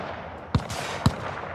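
A smart automatic gun fires in the video game Cyberpunk 2077, giving two sharp, separate shots about half a second apart over a steady low background hum.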